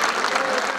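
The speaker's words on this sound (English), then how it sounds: "To thunderous applause, Jaime does a lap of honor." A crowd in a Portuguese bullring applauds after a corrida, a short burst of dense, loud clapping.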